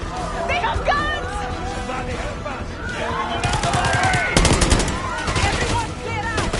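Gunfire in the Black Ops 6 video game: loud, rapid automatic shots and scattered bursts under excited voices and shouting, with the firing heaviest in the second half.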